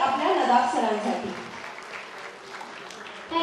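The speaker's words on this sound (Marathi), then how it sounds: "एकदा होऊ द्या टाळ्यांचा गजर आपल्या नदाब सरांसाठी" An audience at a school annual function claps for Nadab sir, the applause rising beneath a speaking voice and then continuing as a softer spread of clapping.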